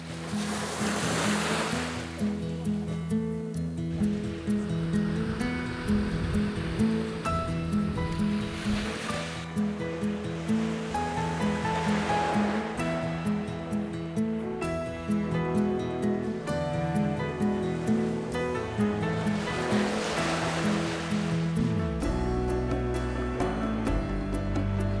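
Sea waves at Xiao Liuqiu island in Pingtung, Taiwan, roll in and wash out in a continuous broad roar that swells several times, heard alone at close to moderate range.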